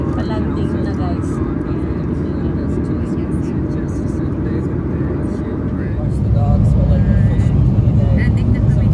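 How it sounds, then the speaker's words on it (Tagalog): Steady airplane cabin roar from a passenger jet landing in Los Angeles, a dense low rumble that grows louder near the end, with faint voices murmuring beneath. "Landing na kami dyan eh."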